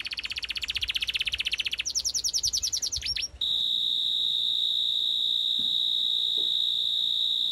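Cartoon birds chirp in quick, rapid trains of high tweets, first one steady run then a faster burst, before a sustained thin whistle-like tone takes over, loud and close with no talk.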